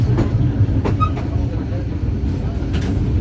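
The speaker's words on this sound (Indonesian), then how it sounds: "Kereta api Airlangga tiba di Stasiun Jatibarang pada pukul 12 lewat 10 menit waktu Indonesia Barat" A KA Airlangga passenger train arrives at Jatibarang station, a steady low rumble of rolling rail cars with faint metallic clicks and brief higher squeals, heard close and continuous throughout.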